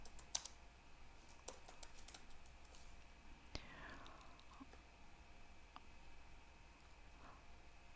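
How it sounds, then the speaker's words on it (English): Soft typing on a computer keyboard, with quick irregular key clicks at close range against a quiet room background and no talking. "Now, type in table of content."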